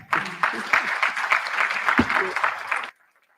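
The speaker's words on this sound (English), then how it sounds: "let's clap for them" Audience applause at a Ministry of Health event in Uganda: a dense burst of clapping from a crowd lasting nearly three seconds, then cutting off abruptly, with a few voices mixed in.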